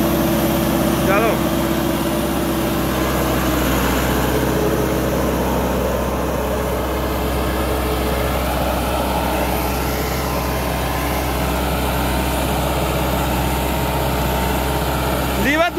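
A new tractor's engine runs steadily at about 2000 RPM with a constant low hum, close and loud throughout, while someone talks over it.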